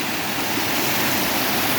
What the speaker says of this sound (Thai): พาพี่น้องมาเที่ยวน้ำตกตาดนี่